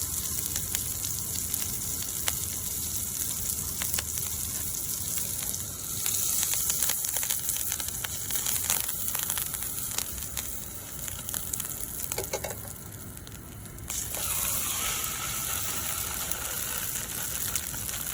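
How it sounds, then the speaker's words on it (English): Trout fries in browning butter, a busy, close crackling sizzle that holds steady throughout, with brief spatters and a short crushing burst near the end. "get my fish ready to go into that butter as it browns"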